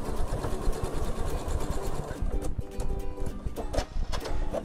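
A sewing machine stitches fabric strips for a log cabin quilt, a fast, steady mechanical whirring and tapping that pauses briefly and then resumes in short bursts, close and loud with no speech.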